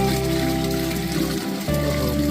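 Water drawn by a rope-tied bucket from a well is poured out in one steady, full splashing stream at close range, with a short dip in the flow before it continues.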